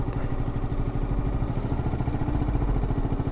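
A Yamaha YZF R125 motorcycle engine runs steadily close by with a low throbbing mid-pitched drone and slight clatter, holding a constant level without distinct rev spikes.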